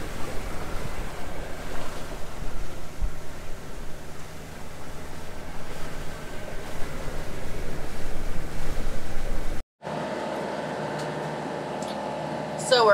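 A sailboat runs at sea toward Staniel Cay in the Bahamas, with steady rushing waves and wind noise against the microphone, then an abrupt cut to a quieter, closer scene.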